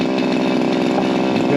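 A Shindaiwa M230 multitool's small two-stroke engine runs loud and close while trimming branches, a steady high-revving buzz with a slight wavering rasp throughout and nothing else audible.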